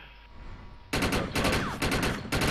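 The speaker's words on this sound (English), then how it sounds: "where am I getting shot from?" Automated turret fire in the shooter game Defiance opens after a quiet start, bursts of rapid machine-gun shots in several loud close volleys separated by short gaps.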